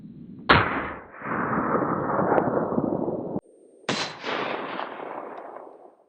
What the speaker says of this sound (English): Coming out of the Smith & Wesson with the Banshee silencer on there